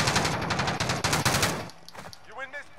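Rapid bursts of automatic gunfire in a battle video game, loud and close for about a second and a half, then a few fainter shots as a game voice speaks briefly.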